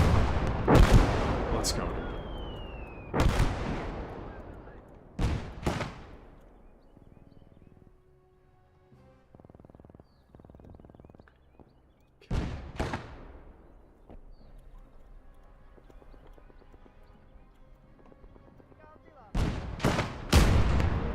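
Heavy booming artillery blasts and gunfire from the World War II strategy game Gates of Hell: Ostfront, Finland campaign, strike in irregular bursts with quieter rumbling gaps between, and a voice speaks briefly.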